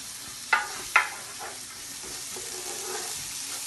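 Onions and mushrooms sizzle in a frying pan, a soft steady frying hiss with two sharp clicks near the start.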